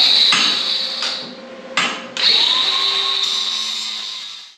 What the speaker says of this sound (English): I'm just going to cut this off with a cutoff wheel